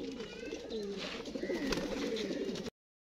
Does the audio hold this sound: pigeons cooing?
yes